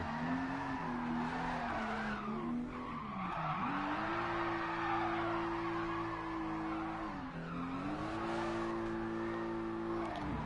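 A car in Gran Turismo Sport spinning its wheels, tires squealing in a sustained high screech that bends up and down over a droning engine, loud and continuous for about ten seconds.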